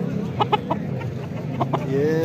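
Several short clucks from a rooster close by at a livestock market, in a quick uneven cluster, over a low background hum with faint voices.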